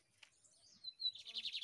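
A lined seedeater sings in open countryside, a fairly faint run of bright, rapid, high chirps and trills that strengthens into a repeated warbling phrase.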